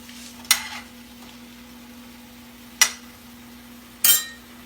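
Sausage frying in a pan on a home stove, a low steady sizzle with three sharp scraping stirs of a utensil against the pan spaced a couple of seconds apart.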